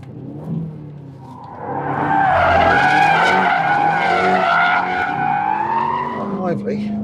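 An Aston Martin Vantage is driven hard on a track, its engine revving loudly as the tyres squeal and skid through a corner, with someone talking over the noise.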